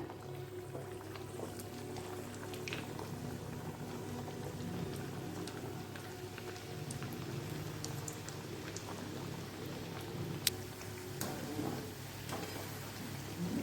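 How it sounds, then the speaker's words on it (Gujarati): Methi roll puris of refined flour with green fenugreek paste deep frying in hot oil, a steady, even bubbling hiss with scattered crackles and a few sharp pops, moderately loud and continuous with no talking. "હવે આપણે બધી પૂરી આવી રીતે તળી લેવાની છે"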